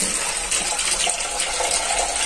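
Water gushes steadily onto potted plants, including a lemon tree, in a village garden after a rainy spell, a continuous close splashing pour with no voices.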